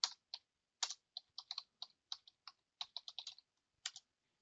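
Search terms typed on a computer keyboard, a run of separate clicky keystrokes in irregular bursts, close and clear with no talking.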